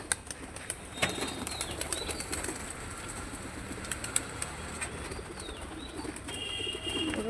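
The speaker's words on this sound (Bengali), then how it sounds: "বদ্ধভাবে ধরা থেকে বলে উড়ার চেষ্টা করতেছে" Confined pigeons in a coop flapping their wings as they try to fly, sharp fluttering bursts scattered through the clip, with a few faint coos and chirps over a steady background.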